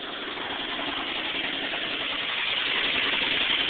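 Chevy truck engine idling loudly with a bit of an oil leak, a steady, close, rumbling drone that holds evenly throughout, with no voices over it.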